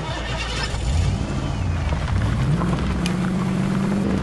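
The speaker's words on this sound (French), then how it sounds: "On s'en va avec la voiture." A car driving in the video game Fortnite, its engine a steady low hum that climbs gradually in pitch, heard continuously under game ambience.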